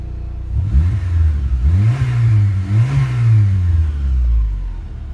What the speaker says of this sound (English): That's engine test